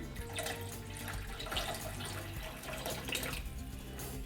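Water poured from a small glass into Marathi moong dal tomato amti cooking in a pan, a steady close splashing gush lasting a few seconds with no voices.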